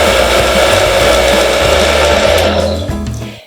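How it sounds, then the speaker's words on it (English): A blender whirs steadily and loudly as it purees bourbon, simple syrup and peach slices for a frozen peach cocktail, a continuous churning drone that winds down and stops near the end. "we are going to blend the bourbon, the simple syrup, and these peach slices"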